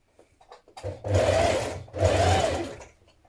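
A sewing machine edge-stitches around a coat pocket in two steady bursts of about a second each, close and clear, with brief pauses.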